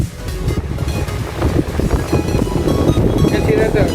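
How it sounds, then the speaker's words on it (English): A Havells Ventilair DB 300mm (12-inch) exhaust fan, newly installed, runs at high speed with a loud, steady broadband whoosh of rushing air and a low rumble, close to the microphone and without speech. "So now let's do a test run of the fan."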